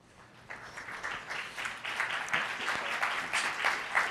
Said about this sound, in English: please give a nice round of applause to Sean Ellis